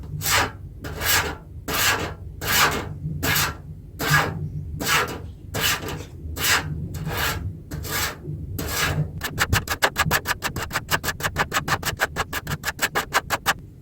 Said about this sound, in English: If you don't like the sound of nails scratching things, please don't watch the next bit